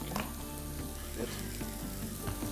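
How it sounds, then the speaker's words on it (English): Onion pieces sizzling in a small amount of oil in a pan, a dense continuous frying crackle with faint stirring knocks, close up and free of speech. "we're going to cook the onions first"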